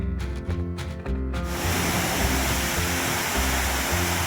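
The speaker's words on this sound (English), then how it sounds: "this is another beautiful waterfall right next to the road" Roadside waterfall in Alaska roaring loudly and continuously, a broad dense rush that takes over after a short stretch of music at the start.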